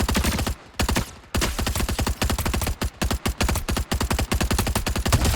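A twin mag gun firing in a loot shooter video game, loud rapid bursts of close-range gunfire with short pauses between strings of shots, fairly regular in rhythm.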